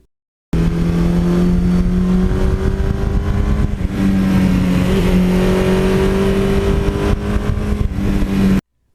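A 1982 Suzuki GS1100E motorcycle engine roars at wide open throttle, a loud, steady, close drone that climbs in pitch through the gears with brief dips at the shifts.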